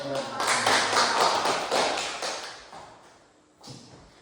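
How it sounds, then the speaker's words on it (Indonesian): A classroom group of teachers-in-training claps together at a teacher's prompt, a dense burst of hand claps that fades out over a few seconds, with a brief flurry returning near the end. "Dan dasarnya tepuk tangan dulu."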